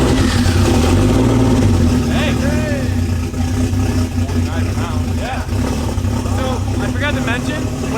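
A Barra engine, freshly bled with coolant and warmed up, runs loudly and steadily with a constant mechanical drone, while people talk over it throughout.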